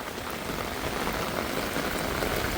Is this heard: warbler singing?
no